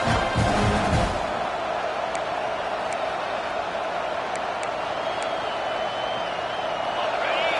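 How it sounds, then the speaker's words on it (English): A football stadium crowd at an FSU versus Miami game roars in a broad, steady wash of noise, loudest at the start and then holding level, with brief sharp accents scattered through. "And here comes the noise. This crowd is trying to inspire this defense to make a big red zone stop."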